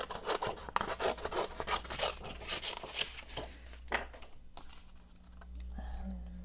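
Rapid, repeated snipping and rustling of scissors fussy-cutting printed cardstock, close and crisp, with a brief pause before the cutting eases off.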